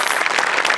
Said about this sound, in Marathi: कॉस्ट्युम डिपार्टमेंटसाठी एकदा जोरदार टाळ्या होऊन जाऊ देत